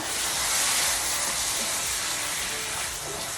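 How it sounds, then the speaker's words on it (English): Bourbon poured into a hot pan with bacon for jalapeño bacon jam, an immediate loud broad hiss and steamy sizzle that holds steady, then eases slightly toward the end. "I'm gonna go ahead and add my bourbon"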